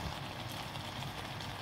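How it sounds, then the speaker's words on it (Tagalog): Steady bubbling and hissing of water boiling in a pot with pork shank, a dense continuous churn heard up close with no voices. "So ayan guys, kumukulo na oh."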